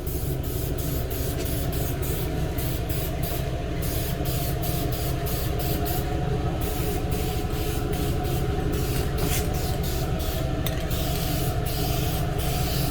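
A spray gun mists a light tack coat of paint onto a 1996 Cadillac Fleetwood lowrider, giving a steady, loud hiss with rapid pulsing that runs unbroken throughout, with no talk.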